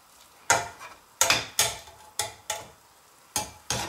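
Spinach stirred in a pan, seven sharp scraping strokes at an uneven rhythm, close and clear with quiet gaps between.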